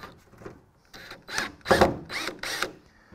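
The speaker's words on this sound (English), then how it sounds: "I'm gonna go in and get my screw started" Screws being driven into a Ford Mustang factory hood while a ram air plenum is fitted, heard as several ratcheting, whirring bursts of a driver tool that grow louder toward the end, with no talking.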